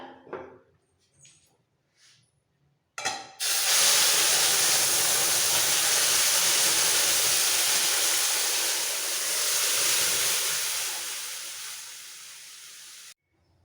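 After a few light kitchen clatters, boiled mung dal hits a hot bay-leaf tempering with a sudden loud burst, then a strong, sustained sizzling hiss that fades gradually over about ten seconds.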